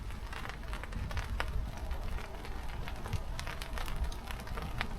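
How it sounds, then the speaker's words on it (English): Heavy rain drums steadily on a camp lavvu overnight, a dense close patter with sharper individual drop hits throughout, low rumble beneath, and no voices. "the rain's on"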